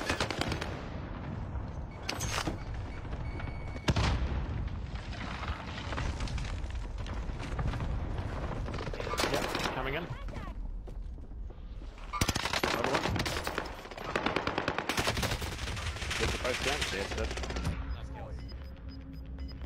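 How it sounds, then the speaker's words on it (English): Rapid machine-gun bursts and scattered gunshots echo in a team-based shooter game, loud and dense with short pauses, while players talk over the firing. "I got shot in the back from another team."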